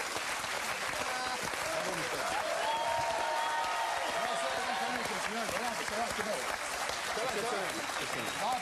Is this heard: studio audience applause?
yes